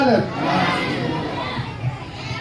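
A crowd at a religious gathering commemorating the martyrs of Karbala roars back a chanted response to a call of takbir, a loud, massed swell of voices that holds briefly and then fades.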